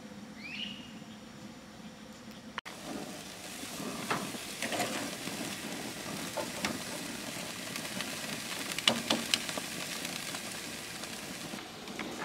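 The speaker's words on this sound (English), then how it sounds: "Mr. Danny is fixing to start the steaks." Steaks sizzle in a dragon pot outdoors, a soft, steady crackling fry at moderate distance with faint stirring clicks and occasional scrapes throughout.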